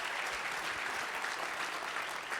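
A comedy show audience in North Carolina claps and cheers between comedians, a dense, even wash of applause that carries steadily from start to finish.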